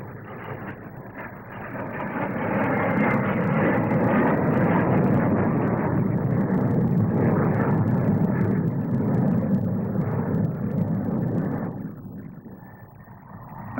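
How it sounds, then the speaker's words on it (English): Avro Vulcan delta-wing four-jet bomber taking off at the 1957 SBAC Farnborough flying display, a loud, sustained broadband jet roar that swells and holds steady for about ten seconds before easing slightly. "Another of the Avro Vulcans, the world's first delta-wing four-jet bombers, takes off to show its maneuverability and its general lines."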